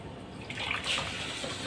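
Water poured from a cup into a pot while making sugar syrup for a qishta dessert, a steady splashing pour that runs for most of the short stretch, close and fairly quiet with no talking.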